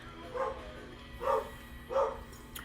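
Three evenly spaced dog barks, muffled and moderately distant, each short and separated by quiet pauses.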